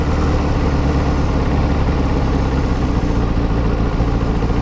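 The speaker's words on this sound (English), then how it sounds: "Still idling a touch high." A Kawasaki ZZR600 motorcycle idles slightly high, a loud, close, steady engine drone with dense mechanical texture and a constant low exhaust rumble, running without change or voices.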